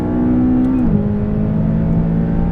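A McLaren 570S engine on a race track holds a loud, steady drone, then the pitch drops sharply just before the one-second mark and settles at a lower, sustained note.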